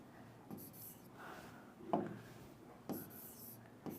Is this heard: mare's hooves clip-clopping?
no